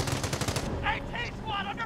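Rapid bursts of machine gun fire in the World War II strategy game Company of Heroes, a dense run of shots for the first half followed by scattered sharper reports and chirps, close and loud.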